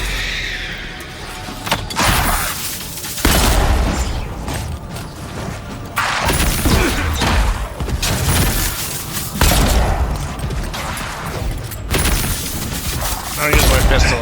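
Pistol gunfire in the video game Avowed rings out in several loud, sharp reports spaced a few seconds apart, with mechanical clanks and the noise of combat in between.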